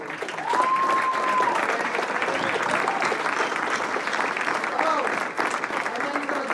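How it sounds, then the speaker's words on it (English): A dense, steady round of audience applause for Jenn Garofolo at an Attitude in Reverse event, close and full throughout, with a faint whistle early on and some murmured voices blended into the clapping. "if we can all give her a big round of applause for Jenn Garofolo"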